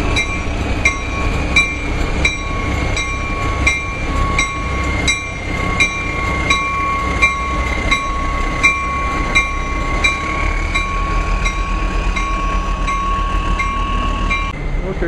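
A Georgetown Loop Railroad train rolling past, its wheels clacking in a steady rhythm alongside a sustained high tonal whine and wheel squeal, loud and near.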